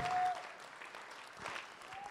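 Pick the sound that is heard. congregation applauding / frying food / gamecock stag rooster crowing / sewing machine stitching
congregation applauding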